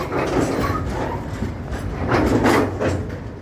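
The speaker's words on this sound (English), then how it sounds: "Hear that beautiful noise of those trains just locking together and unlocking." Heavy freight hopper cars slowing and coupling rumble and grind nearby, with metallic clanks and knocking as the cars bunch together, a steady loud rolling noise throughout.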